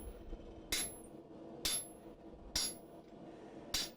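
Four sharp, ringing hammer blows fall on hot iron over an anvil while a tenon is forged, spaced about a second apart, each a loud metallic clang that decays quickly over a quiet background.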